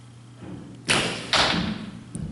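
Arrows from a 47-pound left-handed Ben Pearson Colt Model 707 bow striking a 3D archery target, two solid thuds a half second apart, close and alone over a quiet background.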